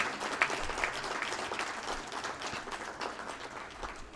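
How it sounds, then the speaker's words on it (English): A conference ceremony audience gives a round of applause, a steady patter of many hands clapping at moderate distance, rather soft and sustained for a few seconds. "Can we please have another big round of applause"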